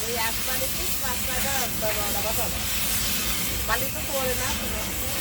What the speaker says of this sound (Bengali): এই মেশিনটায় মাত্র বিশ মিনিটে সত্তর কেজি বাদাম ভাজা হয়